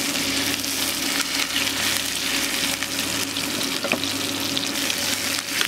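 Aveyron veal fries in butter in a restaurant kitchen, a dense continuous sizzle with light crackling and occasional soft clinks, steady throughout with no talking.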